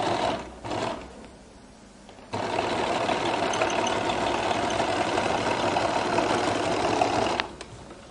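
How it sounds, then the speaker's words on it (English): Sewing machine stitching a flared skirt, a brief whir and pause, then a long steady mechanical run of about five seconds that stops abruptly, close and loud with no talking. "And I'll sew here."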